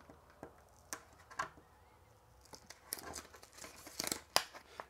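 Quiet crinkly tearing and peeling sounds come in short scattered bursts as the backing is peeled from a drum wrap, with sharp crackles near the end.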